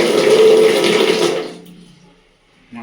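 A bathroom tap or fixture runs water with a loud, close rush that tapers off over a second or so into quiet, followed by a short bump of sound at the end.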